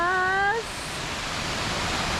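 Waterfall and flowing water at Havasu Falls, Arizona, a steady broadband rush that stays loud and constant, briefly overlapped at the start by a short whistling tone.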